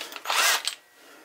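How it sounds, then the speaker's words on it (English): An old-fashioned hand drill whirs and grinds, rising for about half a second, then tapering off, with a few short clicks at the start; close by and moderately loud. "the old-fashioned drill."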